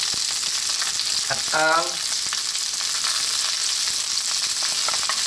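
Cauliflower, Baguio beans and carrots stir-frying with canned tuna in a pan: a steady, loud sizzle throughout, with a short spoken word near the start.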